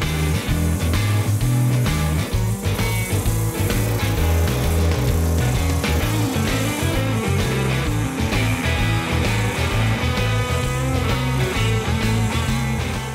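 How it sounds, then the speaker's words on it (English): An oscillating drum sander works the curved edges of a wooden memorial plaque, giving a loud, continuous motor whir with a rhythmic pulsing grind that runs steadily throughout. "And over to the oscillating drum sander for my curves."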